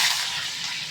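Curry leaves hitting hot oil in a pan on the stove, giving a loud, steady hiss and crackle of frying that stays bright and dense for about a second, with no one talking.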